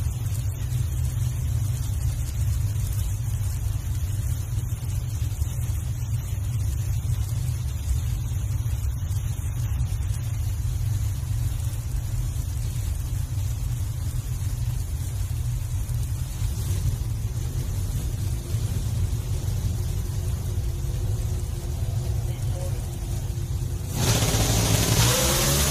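Pro Stock drag racing cars roar continuously at a qualifying event, a loud sustained engine drone with no gaps, and a brighter surge of revving near the end.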